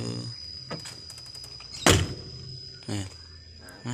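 Door on a rebuilt-body 2010 Isuzu ELF NKR 55 Short truck shut with one solid thunk midway, surrounded by clattery handling noises and a few short knocks.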